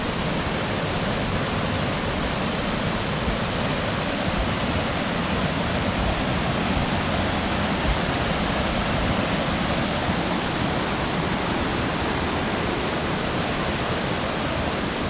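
Loud, continuous roar of rushing floodwater in Ruidoso, New Mexico, after the flood, a dense broadband wash that never lets up, with no voices over it.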